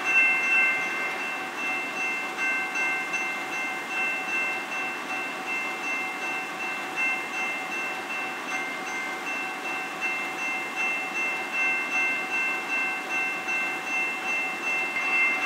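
A locomotive runs steadily in a train simulation game, with a constant engine drone, a sustained whining tone and a rhythmic pulsing chug, loud and unbroken throughout with no voices.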